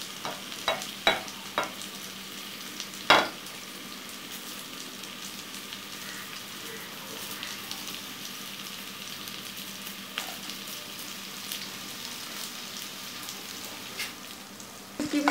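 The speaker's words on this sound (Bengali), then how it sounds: "এই ফাঁকে আমি আমার শুটকিগুলো আমি শুধু তেলে ভেজে নিব" Dried fish (shutki) fries in oil in a pan, giving a soft, continuous sizzle with a few sharp clinks and taps of a stirring utensil early on, and no talking.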